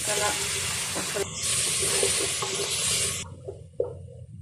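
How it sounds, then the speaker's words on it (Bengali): Prawns frying in a pan with spices, chilli, turmeric, salt and onion paste for a prawn and taro curry, giving a loud broadband hiss and sizzle that cuts off near the end, with a few soft clinks afterward. "মাছটি একটু ভেজে নিচ্ছি"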